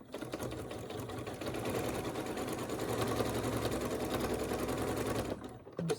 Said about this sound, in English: I'm going to go over to the sewing machine and we're going to get going here.